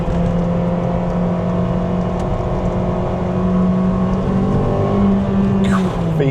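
A JDM Honda Civic Type R engine droning loud and steady from inside the car at sustained revs, with a smooth continuous hum throughout and no talk heard.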